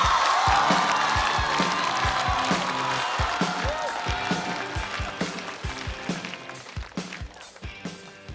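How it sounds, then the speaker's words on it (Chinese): Studio audience at a stand-up comedy competition show breaking into sustained applause and cheering, a broad crowd roar with clapping and whoops over steady rhythmic music beats, gradually easing toward the end. "我们掌声有请"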